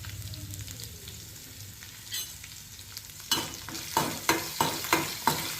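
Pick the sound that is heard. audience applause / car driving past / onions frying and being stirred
onions frying and being stirred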